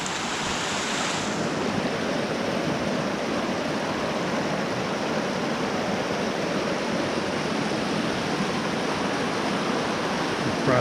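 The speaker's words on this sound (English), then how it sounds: "Reaching the actual crossing of Delaney Creek." Delaney Creek on Mount Yale, near 11,000 feet, rushes over rocks at a trail crossing, a loud, steady broadband roar of close flowing mountain water with no voices.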